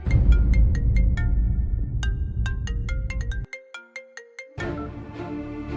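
A mobile phone ringtone plays a bright melodic sequence of plucked, chime-like notes, loud and close, over a room background that drops out partway through before ambience returns.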